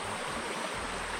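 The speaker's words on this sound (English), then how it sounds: "Beautiful creek." Creek water flowing steadily at a scenic camping spot near Yeppoon, a constant broadband rush with no breaks and no voices over it.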